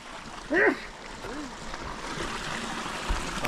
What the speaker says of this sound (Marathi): वा वा वा धबधबा